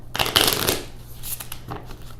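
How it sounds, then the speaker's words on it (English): Cards from a Marvel Champions card game deck are riffle shuffled close by, a dense rustling burst followed by softer taps and a second short riffle, with no talk. "I want to go ahead and shuffle."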